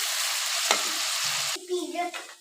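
Ginger garlic paste sizzling in hot oil in a pan while chicken seekh kabab karahi is being cooked, loud and steady frying hiss close by, with a stirring clatter and brief bursts of louder crackle near the end.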